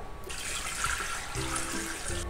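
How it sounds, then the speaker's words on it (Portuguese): Water poured into a Thermomix bowl for bagel dough, a steady close splashing stream running without a break and no talk over it. "Para começar, eu vou colocar 415 ml de água"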